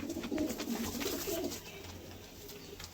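Madras pigeons in a loft coo softly and repeatedly close by, a low rolling murmur over faint background hiss.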